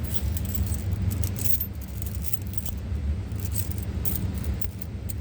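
A bunch of keys jangles continuously and close up for several seconds, a bright metallic rattling over low background rumble with no talking, as someone digs them out to open a home fire alarm pull station.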